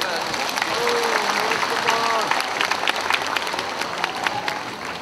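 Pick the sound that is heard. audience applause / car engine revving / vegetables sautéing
audience applause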